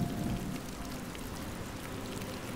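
Steady first rain falling, a soft even hiss of drops with a slightly heavier patter at the start, continuous and fairly faint throughout.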